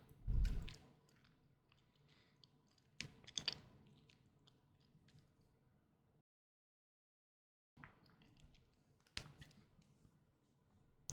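Quiet, close-up crunching and clicking bites of a cookie with a few sharp snaps, a pause of near silence, then more chewing and crisp clicks.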